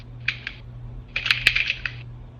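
A few quick bursts of clicky keystrokes, two short taps then a longer run, fairly close with a low hum underneath.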